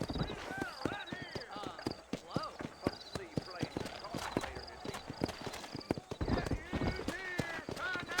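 Horse hooves clip-clop steadily along a trail in the Red Dead Redemption video game, close and rhythmic beneath frequent talking, with occasional whinnies.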